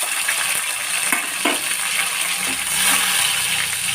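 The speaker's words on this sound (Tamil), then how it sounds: "இது நல்லா வதங்கட்டும்" Onion and tomato sautéing in a pan for egg gravy give a steady close sizzle with occasional spoon scrapes and clinks, with no talking.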